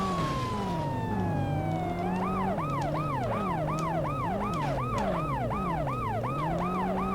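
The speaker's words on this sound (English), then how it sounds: "so you have to actually keep the sirens on" A police car siren wails in the video game World's Scariest Police Chases, first a falling tone then a rapid repeating yelp cycle, loud and continuous over engine rumble.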